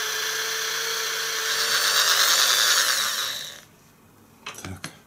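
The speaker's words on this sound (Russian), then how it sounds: "Теперь нужно просверлить отверстие вот в этой пластинке, но через заднее отверстие." A small drill bores a hole through the plate of a handmade wobbler fishing lure. The high, steady whine runs for several seconds, rises slightly partway through, then stops, followed by a few brief clicks and knocks.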